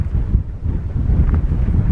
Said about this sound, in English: Sorry for the wind out there.